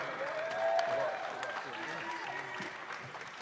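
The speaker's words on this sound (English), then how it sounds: "give a big round of applause for none other than Floyd Mayweather" Audience applause for boxer Floyd Mayweather at a post-fight interview, a steady moderate wash of clapping from a crowd that swells early and then holds, with a voice speaking over it.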